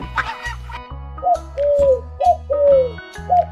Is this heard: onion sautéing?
no